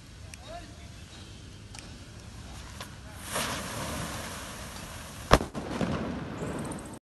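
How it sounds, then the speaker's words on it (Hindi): A nano bomb firecracker is lit outdoors during cracker testing, a faint hiss leading to one sharp, loud bang with a short rumbling tail, amid background noise and possible voices. "तो चलिए अब नैनो बॉम्ब को जला के देखते हैं"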